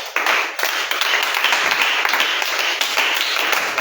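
A church congregation claps together in acclamation of God during a Sunday miracle service, a dense, steady wash of many hands that carries on for the whole stretch, loud and close, with no voices standing out.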